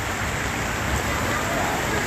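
Heavy rain pours in a dense, steady hiss over Jaro Plaza, a continuous loud wash of falling water with no breaks.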